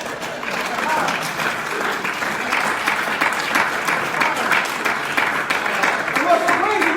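An audience applauds steadily at a spoken gathering, a dense wash of clapping that holds at an even level throughout with voices mixed in.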